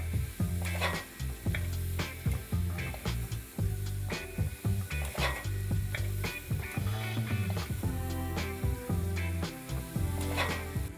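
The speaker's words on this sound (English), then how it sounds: "Let's add 3 finely chopped tomatoes here and cook the tomatoes till they're nice and mushy." Chopped tomatoes fry in hot oil with fried chicken in a pot, giving a steady sizzle broken by frequent sharp clinks and scrapes of a utensil stirring against metal, all close and with no voices.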